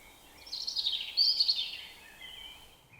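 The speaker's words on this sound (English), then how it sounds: "this is one of the best woodlands I've ever heard for birdsong here" A bird sings a bright, high warbling phrase in woodland by the River Wye, fairly close and clear over a quiet outdoor background, followed by a fainter trailing call.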